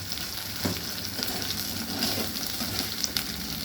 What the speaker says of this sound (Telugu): కొంచెం వేగిన తర్వాత పచ్చి వాసన పోయేదాకా వేయించుకోవాలి సార్.